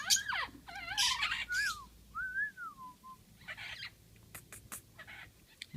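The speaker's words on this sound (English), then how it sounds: "And they're all the lovebirds." Lovebirds give bright whistled chirps and rising, falling calls at close range, followed by shorter scattered sharp notes over a quiet indoor background.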